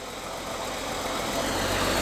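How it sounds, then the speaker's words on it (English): A 1947 Dodge WC half-ton pickup's side valve engine idles quietly and steadily, a soft even close rumble with no voices. "That is one quiet engine."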